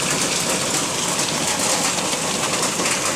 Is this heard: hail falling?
yes